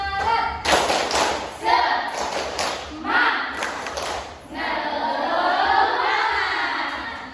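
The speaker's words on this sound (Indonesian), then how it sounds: "kita tepuk semangat dulu ya. Tepuk semangat" A classroom of students performs a rhythmic spirit clap in short bursts of claps and chants, loud and close, with a teacher's voice leading between the rounds.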